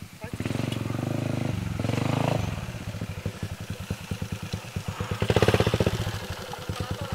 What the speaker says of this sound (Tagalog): May motor oh.